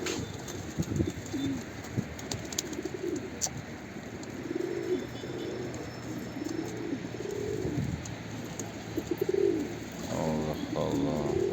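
Pigeons cooing nearby, repeated soft rolling calls throughout, with a few chirps and brief wing flutters toward the end.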